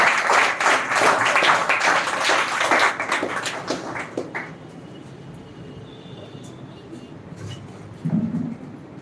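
Students applaud a speaker with a burst of dense clapping that fades out after about four seconds, leaving quiet room noise and a brief low thump near the end.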